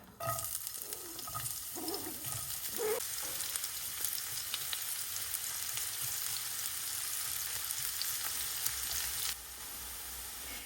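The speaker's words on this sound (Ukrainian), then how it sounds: "Нарізаю так само дрібним кубиком і починаю одразу обсмажувати" Diced onion sizzles and crackles steadily in a hot frying pan, with a few stirring scrapes early on and no talking.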